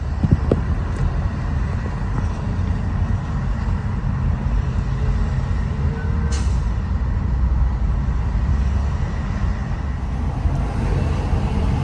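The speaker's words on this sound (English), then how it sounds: "Back driving in traffic again." A car drives through traffic, its steady engine and road rumble continuous and fairly loud, with a few brief mechanical clicks and no talking.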